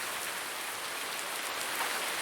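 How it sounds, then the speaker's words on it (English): Steady rainfall in the Farming Simulator 19 video game, a constant soft hiss of drops with no other sounds. "still raining"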